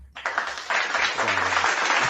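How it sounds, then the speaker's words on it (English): Applause starts abruptly and swells into a dense, even wash of clapping that continues steadily, with a brief voice heard faintly beneath it. "Applause."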